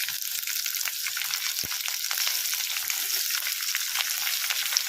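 Chopped onions hit hot oil already cooking with garlic, ginger and green chilli, giving a steady close-up sizzle with light stirring scrapes throughout, no voices.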